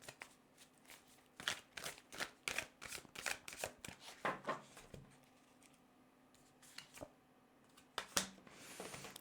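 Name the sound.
shuffling and drawing tarot cards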